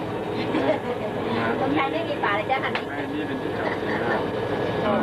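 Steady rumble of a moving train car with a constant interior hum, as passengers chatter nearby throughout.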